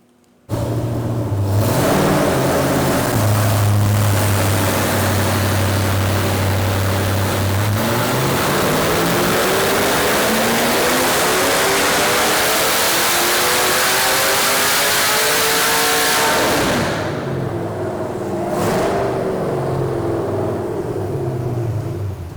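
A loud, raw engine on a dyno revs hard and holds at high RPM for a long stretch, then drops back, with a harsh unmuffled roar from open exhaust headers throughout.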